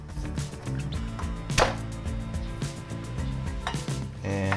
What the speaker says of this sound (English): And just give it a fine mince as well.